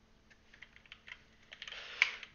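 Light, quiet keystrokes tapped on a computer keyboard while entering terminal commands, a scattered run of soft clicks that bunches into a quicker, slightly louder flurry near the end, with no talking.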